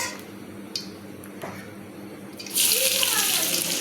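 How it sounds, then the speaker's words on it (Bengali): Chopped onion tipped into hot oil with tempered cumin in a wok, bursting into a loud, sustained sizzle partway through after quieter kitchen clatter. "কড়াইতে তেলটা গরম হয়ে গেছে দিয়ে দিলাম জিরা পড়ুন জিরাটা ফোড়ন হয়ে গেছে এখন আমি দিব কিছুটা কোচানো পেঁয়াজ"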